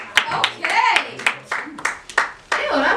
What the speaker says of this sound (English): Ew, that was a really wet clap.